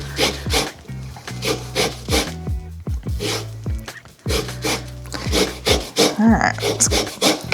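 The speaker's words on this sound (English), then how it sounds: "And this is my favorite way to zest a lemon." A lemon is rubbed against a zester in quick rasping strokes, a rhythmic scratchy scraping close by, with a brief spoken word at one point.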